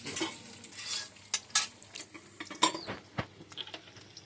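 Cumin and boiled potatoes drop into hot oil in a pan, making irregular crackles, pops and utensil clatter with a louder burst midway, close and clear.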